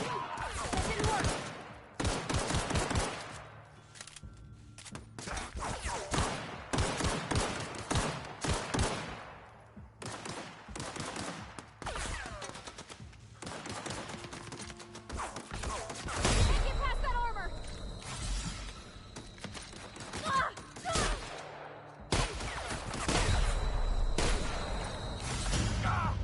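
Shotgun fire in The Outer Worlds video game, loud repeated blasts in dense, rapid bursts through most of the stretch, with brief lulls, game voices and other combat noise mixed in.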